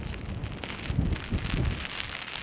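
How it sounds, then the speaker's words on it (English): Heavy rain driven by a blustery wind sweeps down a reservoir valley in North Yorkshire, a dense steady hiss with gusty low rumbles from wind on the microphone, with no talk. "the heavens have just opened. as you can see. And a nice blustery wind taking the rain down the valley there"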